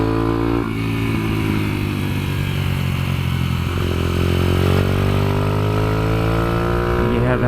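A highly modified Kayo MR125 pit bike runs around a kart track, its small single-cylinder engine droning loud and close with rising and falling pitch as the throttle opens and eases through the corners.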